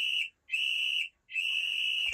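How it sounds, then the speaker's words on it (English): An electronic full-time whistle from a Subbuteo scoreboard timer sounds in three shrill, steady blasts close by, the last one held longest, with short silent gaps between them. "It does a full-time whistle"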